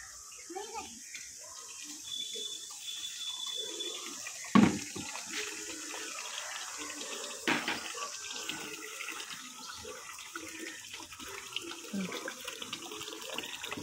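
Tap water runs into a bucket in a steady, faint splashing stream, with a couple of sharper knocks, while people talk nearby throughout.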